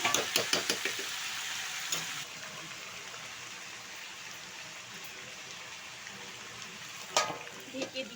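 Chorchori, a Bengali mixed vegetable dish, frying and being stirred in a pan, a steady broadband sizzle with sharp clinks of a utensil early on and again near the end.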